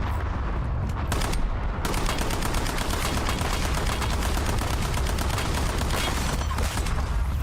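Gunfire in the video game Warzone crackles almost without pause, dense overlapping shots and bursts close by, forming a loud continuous barrage with no speech over it.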